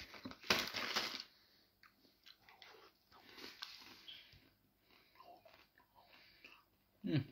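Close, crisp crunching of dry, slightly soft instant noodles being chewed in uneven bites, with quiet mouth sounds and faint background noise between.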